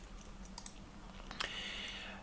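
A mouse clicks the X button to clear a website search box: a few short, dry clicks over a steady low room hum.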